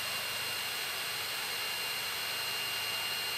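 An electric Bell 212 scale RC helicopter of 700-800 size spins its rotor at high head speed, producing a steady, dense whine and whoosh that holds evenly throughout.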